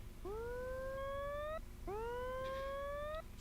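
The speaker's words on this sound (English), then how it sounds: "Sounds like a siren." Two rising, wavering synthetic tones, each sweeping upward and holding like a siren wail, clear and steady with a short gap between them.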